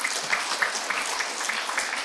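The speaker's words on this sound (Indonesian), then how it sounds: "Tepuk tangan dong." An audience of mothers and fathers at a meditation roadshow in Solo breaks into dense, steady applause, the clapping filling the room without a pause.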